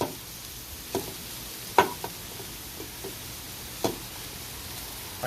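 Cooked noodles go into gravy in a pan and are stirred, a soft continuous wet sizzle broken by several scraping clinks of the utensil against the pan.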